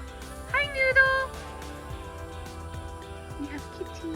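The neighbor's cats meow a couple of times in quick succession early on, clear but a short way off outdoors in a garden, then quieter background sounds follow with faint human voices nearby.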